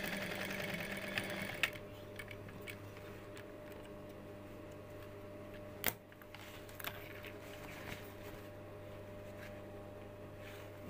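A sewing machine stitches the waistband of a skirt, sewn to match a 3.5 cm belt width, running as a faint, steady mechanical whir with a few small ticks and clicks throughout and no voices.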